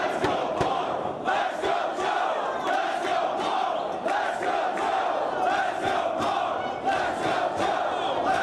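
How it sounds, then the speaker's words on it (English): A large arena crowd at a pro wrestling world title match between Samoa Joe and CM Punk in Dayton chants in a loud, rhythmic, dueling pattern, sustained and dense throughout with no announcer audible. "This 50-50 crowd once again voicing their opinion with that "Let's go Punk, let's go Joe" chant."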